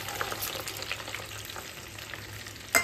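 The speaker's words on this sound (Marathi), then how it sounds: "मी आता डाळ टाकते. मोहरी टाकते." Dal and mustard seeds sizzle steadily in hot oil in a home kitchen, a continuous close crackle with a brief sharper pop near the end.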